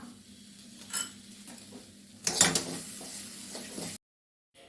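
Kasthuri okra stir-fry being stirred in a pan, with a few scraping clatters of a spoon against the metal and a louder burst of mixing, then sudden silence near the end.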